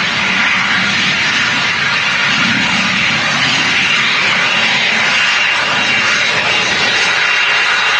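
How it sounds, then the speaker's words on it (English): Jet2 airliner engine running steadily as the aircraft leaves the engine test bay at Manchester Airport, a loud continuous broadband roar that holds for the whole stretch with no talk. "I can see the Jet 2 coming out of the engine test bay as well"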